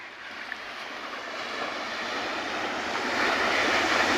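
Steady broadband surf of sea waves washing in at Paradeep beach, a continuous rushing wash that swells slightly louder toward the end, with no voices.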